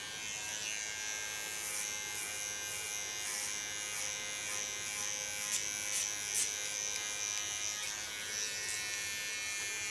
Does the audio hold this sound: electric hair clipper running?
yes